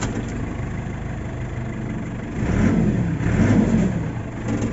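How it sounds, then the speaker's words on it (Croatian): A JCB machine's engine runs steadily at idle, a low continuous rumble that swells slightly louder midway through, close by and alone with no talk. "stroj radi, ok, fino radi"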